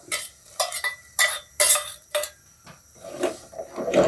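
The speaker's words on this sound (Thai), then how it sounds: "คนให้ละลายนะครับ" A spoon stirs Thai curry paste into boiling water in a pot for a shrimp and vegetable soup, giving a run of scraping, clinking strokes against the pot with a bubbling undertone, close and fairly loud.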